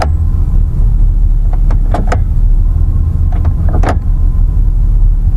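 A 2005 Ford F-150 pickup idles with a loud, steady low rumble, while a few short mechanical clunks and clicks mid-way suggest it being shifted into gear; no one speaks.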